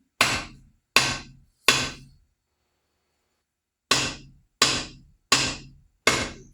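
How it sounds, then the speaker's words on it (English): A vintage Collins Dayton axe head is tapped down onto a new-old-stock Collins replacement wooden handle: three sharp, close knocks, a pause, then four more evenly spaced. "Give it a little tap."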